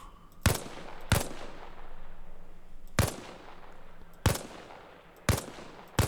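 M16 rifle fired in single shots in the video game Arma Reforger: six sharp, loud reports at uneven intervals, each followed by a short decaying tail, with no talking.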